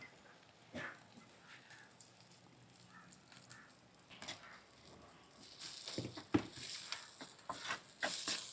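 Coconut milk poured into a pan of stirred Sri Lankan-style vattu kaththari eggplant curry, a soft liquid patter and sizzle that builds louder and busier toward the end, with faint kitchen noise and no talking.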